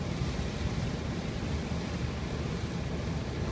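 Gale-force wind roaring over waves on the River Clyde in driving rain, a dense continuous rush of wind noise buffeting the microphone with no talking.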